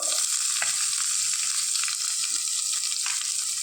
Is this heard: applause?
no